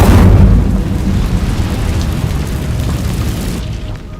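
Incendio fire spell cast in Hogwarts Legacy, a loud, close whooshing burst of flame that opens with a heavy rumbling blast and then roars steadily before cutting off abruptly.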